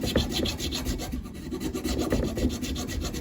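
A file cuts a slot in a guitar nut with quick, even back-and-forth rasping strokes, close and steady throughout, with no talking.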